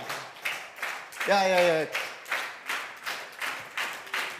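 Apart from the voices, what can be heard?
audience clapping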